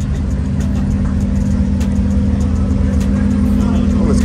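A car leaving a car show gives off a steady, deep exhaust rumble that drones on close by without pause, with voices talking faintly over it.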